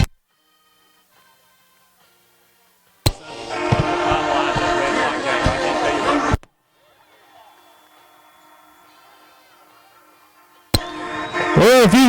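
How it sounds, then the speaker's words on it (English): A portable train whistle sounded at a high school football game as the team comes onto the field, short loud tonal blasts separated by quieter stretches, with crowd noise between. "They have a portable train whistle."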